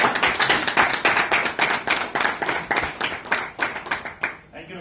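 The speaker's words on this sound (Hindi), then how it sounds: "रमेश जी को तालियां दीजिए" Audience clapping for Ramesh receiving a leadership award at a training event, a steady burst of many hands that tapers off near the end, with faint voices beneath.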